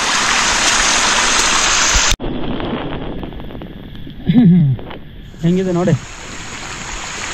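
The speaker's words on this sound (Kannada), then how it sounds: "ಹತ್ತೋ ಮೆಟ್ಲಲ್ಲೆಲ್ಲ ನೀರು ಹರಿತಾ ಇದೆ" Rainwater rushes down the steps of Anjaneri hill near Nashik after a day of heavy rain, a loud, dense roar that cuts off abruptly, followed by a quieter wash of flowing water as a person speaks.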